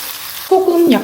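Tomato sauce hitting a hot frying pan, a sudden close sizzle that breaks in over a steady kitchen hiss, with a soft stirring scrape near the end.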